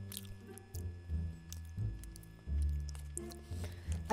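Close, soft chewing and squishy biting on a Chinese snack, with quiet, irregular bites and no talking.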